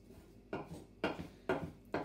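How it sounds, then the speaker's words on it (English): Fried rice being stirred through with soy sauce and sliced rolled omelette in a pan, four scraping, clattering strokes at a steady rhythm about half a second apart, close and moderately loud. "I'm just going to stir that through"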